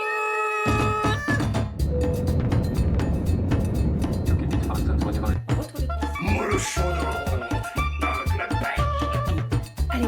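A pet cat in a home bedroom meows loudly and repeatedly, with drawn-out yowls standing out over room noise and a voice.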